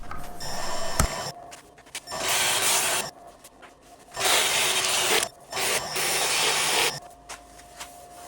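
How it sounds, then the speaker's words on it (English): A steady whirring motor with loud rushing, rubbing bursts as a spinning buffing wheel loaded with buffing compound polishes a wooden bowl, pausing and resuming several times. "Then I use a buffing wheel, which is loaded with a buffing compound."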